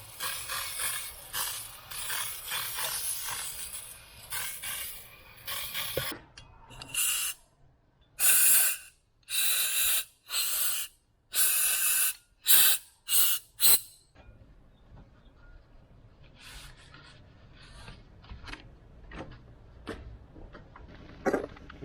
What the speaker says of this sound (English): make sure you clean the grinding compound with brake cleaner.